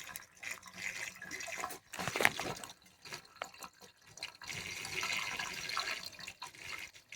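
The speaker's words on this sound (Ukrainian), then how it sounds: "Але водичка йде із з бурком повітря." Water spurting and gurgling with air bubbles while an underfloor heating loop is bled, an irregular sputtering hiss with splashy bursts heard close up and fairly quiet.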